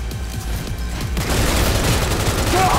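Rapid automatic gunfire from a futuristic shooter game, Cyberpunk 2077, rattles on continuously and loudly throughout, growing denser after the first second, with a brief high whine near the end.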